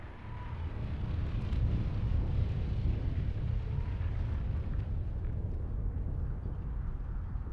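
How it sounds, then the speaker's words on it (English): A nuclear explosion in the video game Call of Duty 4: Modern Warfare rumbles as a continuous deep roar with a windy, blasting wash, loud and sustained for over seven seconds with no voices. "Nuclear explosion."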